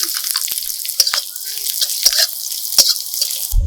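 Tempering of black cumin, dried chillies, whole garlic and onion frying in hot oil, a bright steady sizzle with sharp pops and crackles, close and loud, ending in a low thud.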